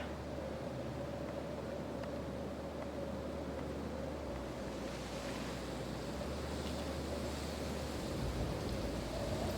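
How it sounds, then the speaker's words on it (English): Steady, eerie wind blows through the game world of Graveyard Keeper, a continuous loud rushing layer with a low droning undertone that holds evenly throughout, with no talking over it. "Scary wind."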